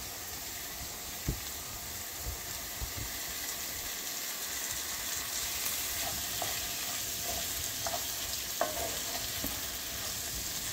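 Tomato sizzling in a hot frying pan, a steady close hiss of frying with occasional soft stirring taps and light pops.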